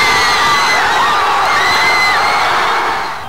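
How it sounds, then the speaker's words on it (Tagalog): A dense crowd of fans cheers and shrieks nonstop on Taft Avenue after a UAAP basketball championship win, loud and continuous with high whistles and whoops rising above the roar. "walang humpay na hiyawan ng mga taga-Lasal sa Taft Avenue"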